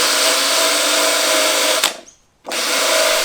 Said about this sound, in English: I'm just gonna use some Scotch-Brite, scuff this up, or maybe some wire wheel